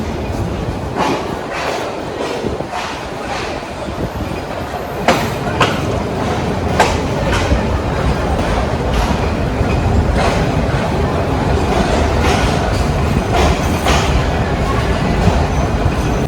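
Jamuna Express passenger train leaving Dhaka Airport railway station on the Dhaka–Jamalpur route rolls along the tracks, loud rhythmic clickety-clack of wheels over rail joints growing steadier as it gathers speed.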